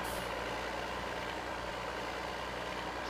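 A truck drives steadily in the farming game Farming Simulator 20, its engine a continuous broadband rumble with a high hiss, constant in level and alone with no voices.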